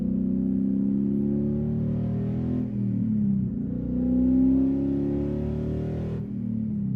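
A supercharged 5.7-litre Mopar V8 with a ProCharger revs hard and accelerates in two long loud pulls, its deep harmonics climbing, dipping briefly between them, with no talk over it.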